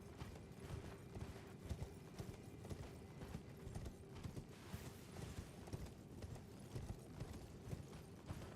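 A horse gallops in the video game Elden Ring, its rapid hoofbeats clip-clopping in a steady, dense rhythm with soft creaks and mechanical game sounds layered throughout.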